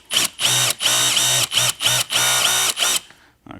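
A Milwaukee M18 cordless drill/driver runs in a series of about eight short, loud whirring bursts separated by brief pauses while driving a screw into pallet wood, close up.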